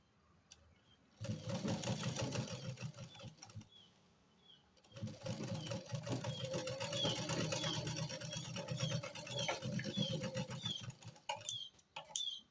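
A sewing machine stitches fabric in a steady, fast mechanical whir that runs for a few seconds, pauses briefly, then resumes for a longer continuous stretch, close and clear.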